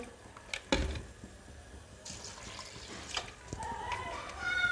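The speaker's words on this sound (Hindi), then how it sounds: "अब मैं पहले 2 गिलास पानी इसमें देखें शामिल कर दूंगी इस तरीके से।" Water is poured into a rice pot for pea pulao in uneven splashes with faint clinks, quiet and close, over low background noise.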